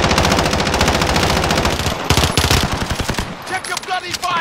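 Rapid automatic gunfire from the Call of Duty Warzone battle royale game, loud dense bursts of machine-gun fire with overlapping shots, thinning into scattered sporadic shots near the end.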